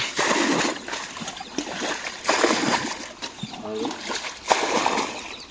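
Water is scooped and tossed out of a small muddy pond being drained for fishing, coming as repeated close splashes in bursts while people talk nearby.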